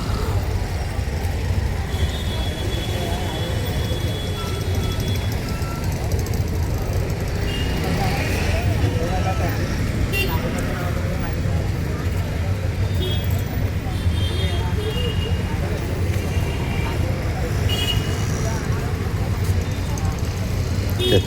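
Busy street traffic with auto rickshaws and private vehicles passing a rickshaw stand in Dombivli, a steady loud rumble of engines and road noise throughout, with faint voices mixed into the din.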